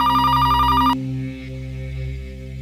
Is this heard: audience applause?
no